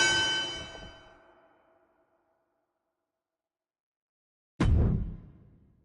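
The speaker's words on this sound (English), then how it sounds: "that's three. Ring the bell." A wrestling ring bell clangs in WWE 2K25, a bright metallic strike that rings out and fades, then a second loud clang hits after a pause of silence.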